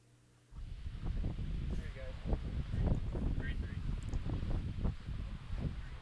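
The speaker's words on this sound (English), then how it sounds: "The wind is making it really hard to like putting." Wind gusting across an open golf course buffets the microphone, a steady low rumbling roar from start to finish under a person talking.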